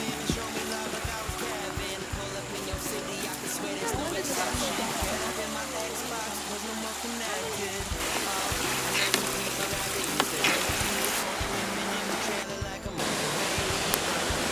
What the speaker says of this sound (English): So this is Abrams Falls.